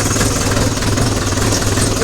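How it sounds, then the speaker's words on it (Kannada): A Royal Enfield Bullet motorcycle engine idles close by with a steady, loud, rumbling thump, continuous and unbroken, with no talk over it. "ಯಪ್ಪಿ ಗಾಯ್ಸ್, ಇದು ಪವರ್ ಇಂಜಿನ್ ಗಾಯ್ಸ್,"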